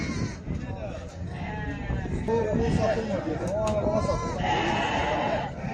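Sheep and goats bleat repeatedly at the Maştağa livestock market, several animals calling close by over a murmur of voices and crowd noise.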